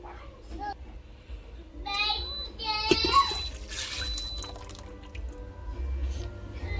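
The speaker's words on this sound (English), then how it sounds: "I've made brown gravy, put on saute, and I'm going to pour it in here." Brown gravy pouring and splashing into an Instant Pot set on saute, a liquid trickling and dripping sound close by, with voices and a child's chatter over it.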